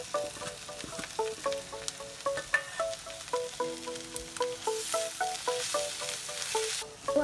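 Holarrhena flower vegetable with coriander sautés in a pan, a spatula tapping and scraping the metal in a quick, repeated rhythm over an ongoing sizzle, close and moderately loud.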